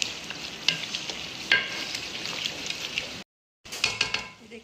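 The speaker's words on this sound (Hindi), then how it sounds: "फिर हाई और अपने कीमे की करेंगे थोड़ी सी भुनाई" Minced meat (qeema) is fried and stirred in a pan for bhuna qeema: a bright sizzle with repeated scraping strokes of a spoon, close and fairly loud, then a brief silence before the sizzling and stirring resume.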